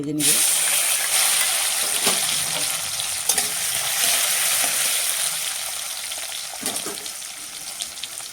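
Small-chopped tomato sizzles in hot oil in a heated kadai, a bright continuous frying hiss with occasional stirring knocks, close and fairly loud throughout.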